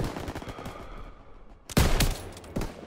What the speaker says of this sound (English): MGs, open fire! Keep them off that bridge!